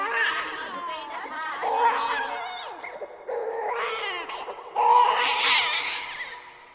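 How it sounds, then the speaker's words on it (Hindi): A newborn baby cries in a dramatized home courtyard scene, wailing in long, rising and falling bursts with brief pauses between them, loud and close. "आंगन में किलकारी गूंजी"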